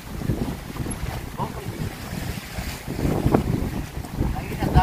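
Wind blows at sea in a steady, rough roar of buffeting gusts and microphone rumble aboard a small boat, with water sloshing underneath.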